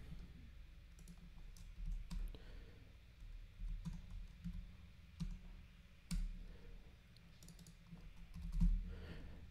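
Irregular typing on a computer keyboard while entering a color setting for a TradingView indicator, soft clustered key clicks at close range over a low background hum, with no talking.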